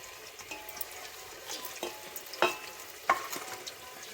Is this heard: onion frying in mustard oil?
yes